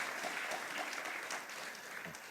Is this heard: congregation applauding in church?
yes